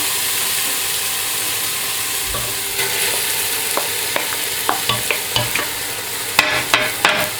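Meat is added to a thick sauce in a pan for Moroccan pastilla and stirred, giving a steady sizzle with a run of spoon scrapes and clacks toward the end, close and fairly loud, with no talk.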